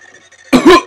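A human voice imitates a cough, giving one short, close, throaty burst followed by a second, rougher rasp. A faint musical background precedes it.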